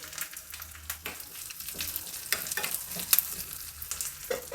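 Urad dal, chana dal, finely chopped curry leaves and cumin seeds fry in hot oil as a tempering, giving a steady close sizzle broken by scattered pops and the scrape of stirring, with no voices.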